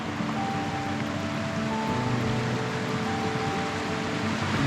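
A sulfuric river in the Japanese mountains rushes along, a steady broadband roar of flowing water, close and continuous, with faint hum-like tones running underneath.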